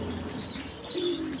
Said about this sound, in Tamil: நல்லா மேய்ச்சல் புறா தான் இது.